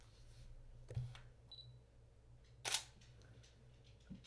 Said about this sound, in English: The sound of the shutter.